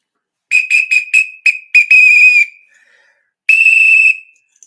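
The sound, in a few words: whistle blown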